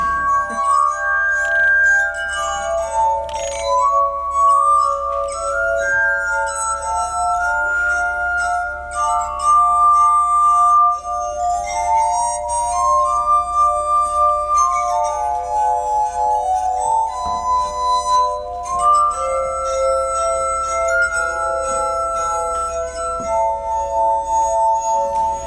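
Glass harmonica played with wet fingers on rubbed glass rims, giving sustained, pure ringing tones that glide between pitches in a slow, continuous melody, with faint high glassy overtones and no voices.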